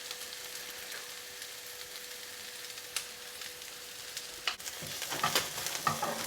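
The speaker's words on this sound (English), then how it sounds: "while the onions are cooking" Onions sizzling and frying in a pan, a steady soft crackle with occasional stirring clicks and scrapes toward the end, nearby and alone without talk.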